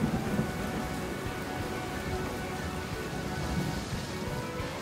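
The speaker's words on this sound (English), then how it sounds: "it began to rain" Steady rain pours down with low rumbling thunder rolling beneath it, a dense continuous storm bed over open sea, loud and unbroken with no voices.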